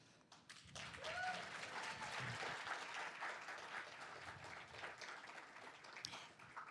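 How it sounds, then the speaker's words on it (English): Audience applause for panelists at a peace and cooperation panel event, a steady wash of clapping filling the room for several seconds, moderately loud, with a few faint voices underneath. "I would like to invite you all to give a great round of applause to our panelists"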